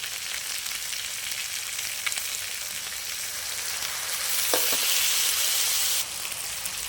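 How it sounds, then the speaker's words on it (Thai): Chicken wings with seasoning, fish sauce and dark soy sauce stir-fried in a pan, a steady hiss of sizzling with a few utensil scrapes and a louder burst of frying near the end. "แล้วก็ผัดให้เข้ากัน"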